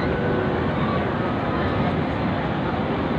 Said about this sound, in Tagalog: So, nandito tayo ngayon sa train.